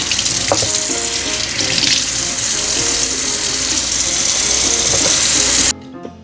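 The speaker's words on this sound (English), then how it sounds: "I'm gonna wash my hands and then I'm gonna wash the scissors." Tap water runs steadily into a sink while hands are washed, with clinks and splashes, and the flow cuts off near the end.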